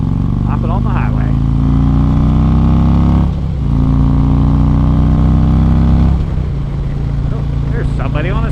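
Harley-Davidson Ultra Classic on Michelin Commander tires cruising on a highway, a loud, steady low engine drone with wind rush, gear shifts breaking the tone twice, while a rider talks over it.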